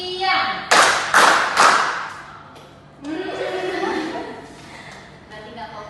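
Classroom of students doing a chanted clap routine during a chemistry microteaching lesson, with a few loud, sharp group claps in quick succession followed by talk and murmuring.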